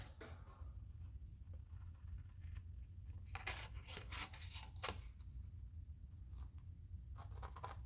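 Scissors cut out a traced paper shape for a cabochon pendant, faint close-up snips and paper rustles repeating irregularly, very soft over a low background hum.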